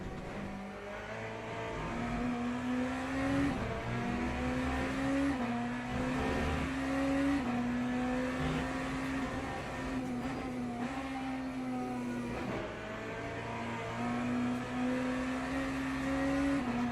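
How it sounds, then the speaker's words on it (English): A hypercar howls past during a night stint of the Le Mans 24 hours in Le Mans Ultimate, its steady high engine drone rising and dipping with gear changes over the player's own car noise. "Oh, that's a hypercar."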